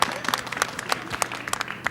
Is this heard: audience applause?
yes